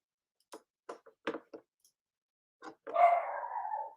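A dog gives a few short, sharp barks spaced apart, followed by a longer drawn-out whining bark, all close by in an otherwise quiet room.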